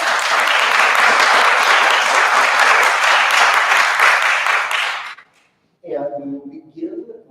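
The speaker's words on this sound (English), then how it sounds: "we will offer everybody a hearty round of applause to begin" A large audience at a League of Women Voters county board candidate forum in Peoria claps loudly and steadily for about five seconds, then the applause stops abruptly and a voice begins talking.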